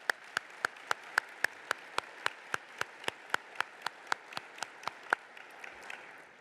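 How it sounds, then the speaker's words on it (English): Steady, evenly spaced hand claps for new board members at a museum association general session, sounding faint and sparse, like a small group clapping in rhythm for several seconds. "let's give them a round of applause"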